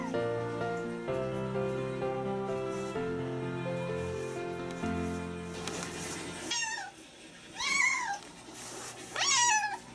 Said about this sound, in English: This is my cat, Judy.